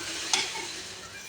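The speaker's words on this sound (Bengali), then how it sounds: "ডিম দিয়ে পাউরুটি দিয়ে আম্মু ভেজে দিচ্ছে আমাদের" Egg-coated bread fries in a pan at home, a soft steady sizzle with one brief scrape of a utensil early on.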